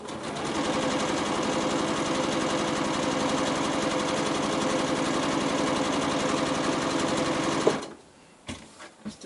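A sewing machine runs steadily for several seconds as it stitches around a pair of fabric squares, a fast even mechanical whir, loud and close, then stops and is followed by a few light clicks.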